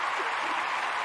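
A show host's applause sound effect plays as dense, steady clapping throughout, loud and continuous with no talk over it.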